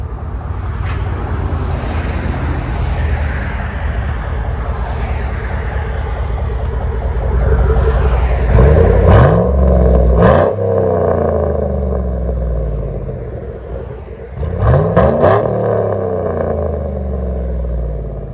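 A Chevy Tahoe with a 5.3L V8, compared with a muffler delete and a Flowmaster Super 10, idles with a loud, deep exhaust rumble, then is revved hard twice with sharp rising and falling roars, close to the pipes.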